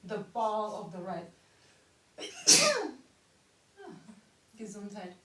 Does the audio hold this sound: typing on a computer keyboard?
no